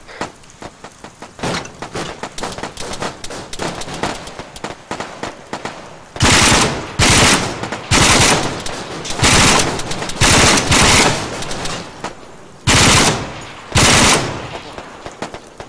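Machine gun fire in Arma 3, with rapid bursts of shots: lighter, more distant rattling early on, then loud close bursts in repeated clusters separated by short pauses.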